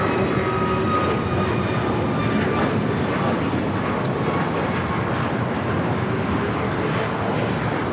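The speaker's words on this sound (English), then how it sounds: "This is Southwest Airlines 37, taking off to Austin on a MAX 8." A Southwest Airlines Boeing 737 MAX 8 jet taking off at LAX, heard as a steady, loud, broad engine roar that holds level throughout with no pauses.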